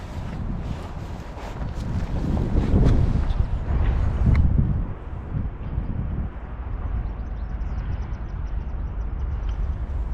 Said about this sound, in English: That northeasterly wind calmed down earlier on